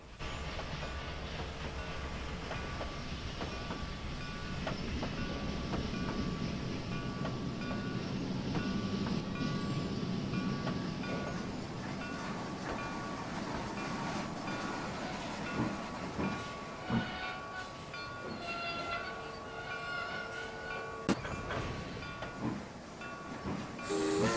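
A freight train rolls past a small Cincinnati request-stop station with a steady rumble and rhythmic clickety-clack, rising then easing, with sharper clanks toward the end and no talking.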